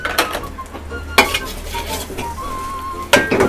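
Dried shrimp and shiitake mushrooms are stir-fried in a pan for Hainanese mixed vegetable stir-fry, with a steady sizzle of frying and intermittent scrapes and clinks of a utensil against the pan.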